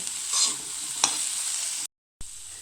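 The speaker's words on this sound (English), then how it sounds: "Add some soy sauce and mix well" Chopped mushrooms sizzle in a pan with soy sauce as they are stirred, a steady bright hiss with a couple of soft scrapes, briefly cut to silence near the end.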